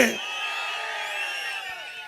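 An election campaign rally crowd in Tiruvallur roars and cheers with a sustained, dense wall of voices that fades slightly over a couple of seconds.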